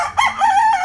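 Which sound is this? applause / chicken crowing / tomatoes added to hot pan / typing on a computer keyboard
chicken crowing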